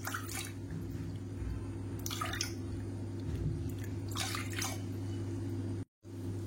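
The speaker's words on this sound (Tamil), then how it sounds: "3லேருந்து 4 கப் அளவுக்கு தண்ணி சேர்த்துக்காங்க" Water poured from a cup into a black kavuni rice and urad dal flour mixture, a soft splashing trickle with intermittent drips and liquid bursts over a steady low background hum, cut briefly near the end.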